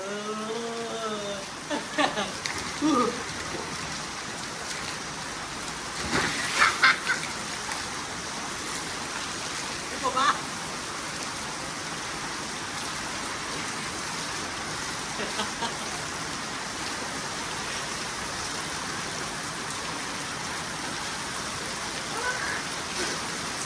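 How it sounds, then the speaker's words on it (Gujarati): Steady rain pours down at a farm home, a constant close wash of falling water, with a few faint bursts of voices or other sounds now and then. "વરસાદ ઘેર આવીને ચાલુ થઈ ગયો"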